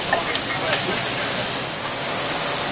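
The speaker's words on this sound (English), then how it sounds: "We're going to take our hamburger patty, place it right on the grill." A hamburger patty sizzles on a grill with a loud, steady, close hiss that holds evenly throughout, broken by a few faint crackles.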